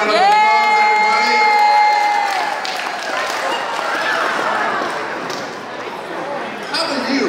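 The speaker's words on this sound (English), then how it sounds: "give them a big round of applause" Audience at a magic stage show cheering and applauding a volunteer, loud crowd noise with shouts under an excited announcer's voice, gradually fading.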